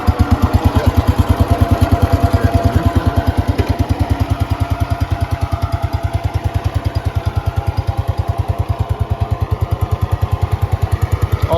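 A Cub Cadet 104 lawn tractor's engine, already warm, idles close by with a steady, loud, rapid single-cylinder thumping that holds an even rhythm throughout.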